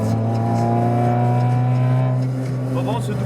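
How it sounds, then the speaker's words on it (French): Car engine held at a steady high rev during a double-declutch downshift into first gear, a loud sustained drone that drops and wavers near the end as the revs fall. "Je débraye, j'accélère, je relâche. Et j'enclenche la vitesse"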